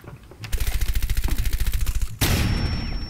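Fuze cluster charge in Rainbow Six Siege firing off a rapid string of about twenty sharp explosive pops, loud and close, followed by a sudden burst of broadband noise with a ringing tone.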